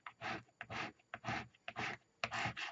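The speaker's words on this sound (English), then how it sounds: "I'm going to start scraping a little bit harder." Wax paper being scraped to transfer an image, a series of about eight short, rasping rubbing strokes in a steady back-and-forth rhythm, close and fairly quiet, with no talking.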